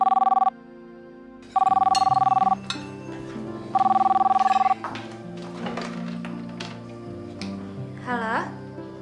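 A telephone rings in repeated electronic bursts, loud and close, with pauses between rings, while people talk over the quieter gaps.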